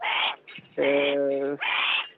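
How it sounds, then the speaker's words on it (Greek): A hawk gives loud, harsh rasping screeches close by, three bursts in a row with a drawn-out tonal cry in the middle. "Είναι ένα γεράκι του είδους χάριστοκ."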